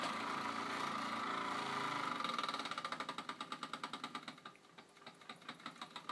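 A small toy steam engine runs, a hissing, whirring start giving way to a rhythmic chuffing beat of evenly spaced puffs that slow and soften slightly toward the end, close and alone without speech.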